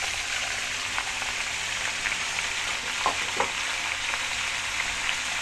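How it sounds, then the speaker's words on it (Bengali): Potato, pumpkin stems, teasel gourd and papaya fry in an oil-filled wok with a constant close hiss, scattered with sharper pops and crackles as the pieces land. "এবার এক এক করে আলু, কুমড়ো ডোগা, কারকোল, পেঁপে দিয়ে দিচ্ছি আমি কড়াইতে"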